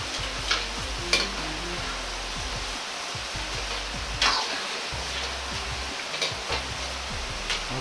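Eggplant and other vegetables deep-fry in hot oil for a home-style Chinese di san xian dish, giving a continuous close bubbling sizzle broken by a few sharper splashes and bursts as the heat rises.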